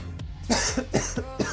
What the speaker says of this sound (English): Why am I coughing now?